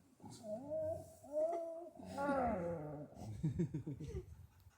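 A sled dog growls and grumbles in low, uneven rumbles, close by, with a few short throaty bursts toward the end.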